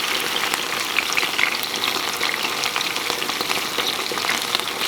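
Chicken breast sautés in hot oil in a pan, producing a dense, loud, continuous frying hiss with rapid crackles and oil pops near the mic, with no talking.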